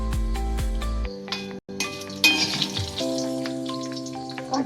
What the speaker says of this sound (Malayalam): കടുക് വറുത്തത് ചേർത്ത് കൊടുക്കാം.